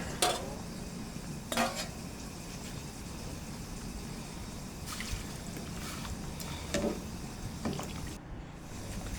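A spoon stirs a pot of catfish tom yum soup with fish roe, giving scattered clinks and scrapes against the metal pot over a steady low simmering hiss, with no talking.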